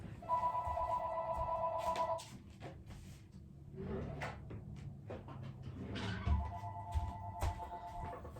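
A telephone rings in two bursts of electronic trilling, with a dog panting and household clatter and movement around it.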